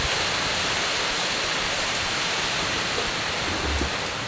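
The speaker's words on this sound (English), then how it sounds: "we moved into the cockpit and a downpour came" Heavy rain pours down on a sailboat in a steady, dense wash of broadband noise that stays loud and unbroken throughout, with no voices.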